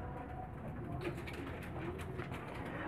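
Pigeons in a loft cooing steadily, low soft calls repeating over a constant background hum, fairly near and continuous with no talking.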